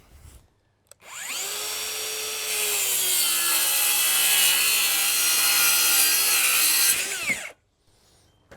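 A power saw rips a 5/4 wooden deck board lengthwise in half for a shed roof, a loud steady whine that runs about six seconds before spinning down, with no talking.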